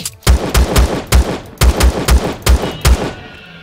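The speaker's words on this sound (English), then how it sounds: "I know I can take him down with a pistol" Pistol shots fired at a dinosaur in the video game Empyrion Galactic Survival, ten loud, sharp reports in quick, fairly even bursts, heard alone with no talking.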